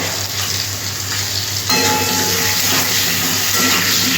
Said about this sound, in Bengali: আলুটা আমার ফ্রাই হয়ে গেছে